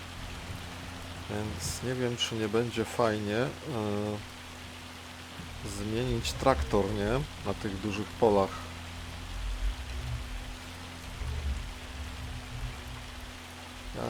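Steady rain falls in Farming Simulator 25, a continuous hiss of downpour on a farm field that runs throughout at moderate level, with someone talking over it for the first several seconds.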